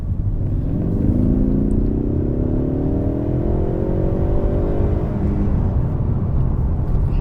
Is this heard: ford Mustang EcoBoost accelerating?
yes